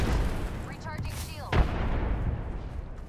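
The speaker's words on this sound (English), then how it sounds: "Throw a grenade at him." In the video game Apex Legends, a grenade blast and gunfire ring out loud and close, a sharp boom standing out midway through a dense wash of battle noise.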